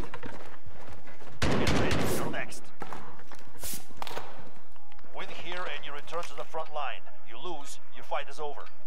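Gunfire in the video game Warzone: a dense burst of loud broadband shots early on, a few sharper cracks after it, then a voice talking over quieter game sound.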